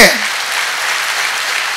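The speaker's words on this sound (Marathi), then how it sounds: "जोरदार टाळ्या होत्या एकदा पुन्हा भाऊसाठी" Sustained crowd applause at a Marathi comedy speech event, loud and dense from start to finish, a broad wash of many hands clapping together.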